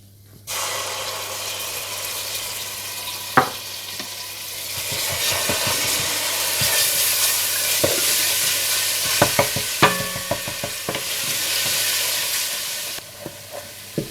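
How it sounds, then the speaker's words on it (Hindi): Ginger and garlic frying in hot ghee for a Kashmiri gushtaba, a steady close sizzle running throughout with occasional stirring clinks and scrapes of a utensil against the pan, no talking. "इसमें अदरक लहसुन डालकर भून लें।"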